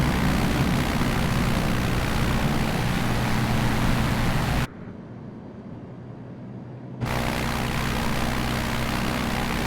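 Aircraft engine drone from Microsoft Flight Simulator 2020 during takeoff near Honolulu, a loud steady broadband roar that drops out abruptly for about two seconds and then resumes.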